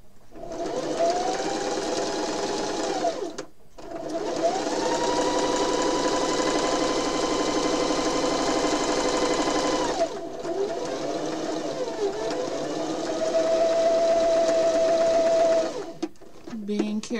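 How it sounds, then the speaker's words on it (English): A sewing machine stitches a quilt block in long steady runs with two short pauses, loud and close, and a voice talks over it. "Now we're going to sew along the other side"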